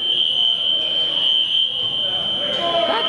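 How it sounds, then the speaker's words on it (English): A fire alarm sounds inside a gym as a loud, continuous high-pitched tone that never lets up, with a person talking underneath it. "The fire alarm's going off doesn't happen a whole lot."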